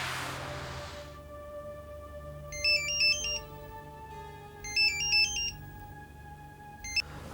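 A phone ringtone for an incoming call plays a repeating melodic chime pattern in two bursts over a steady background tone, moderately quiet and without talking.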